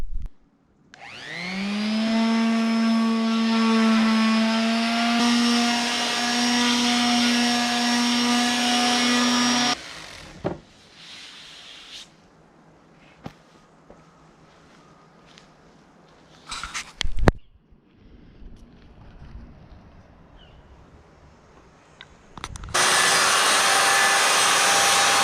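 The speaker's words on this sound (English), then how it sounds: "I just cut these off to length and then sand them up and get them ready for paint." Aluminum pieces for a welded import camper are cut to length with a power tool, a loud steady whine lasting several seconds, followed by quieter scattered workshop clatter and a final burst of broadband sanding or grinding noise.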